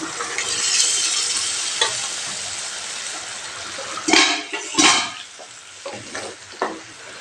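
Sambar vegetables stirred in a cooking pot: soft sizzling and bubbling under the scrape of a spoon, with a few louder scraping strokes near the end.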